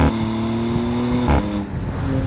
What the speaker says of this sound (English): Oh, I love that exhaust sound.